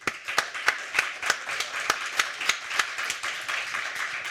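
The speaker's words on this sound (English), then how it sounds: "So if I can ask for a round of applause for them first." An audience at a panel discussion on US-Mexico relations gives a round of applause, heard as steady, fairly sparse claps in a quick, even rhythm that carry on for several seconds at moderate loudness.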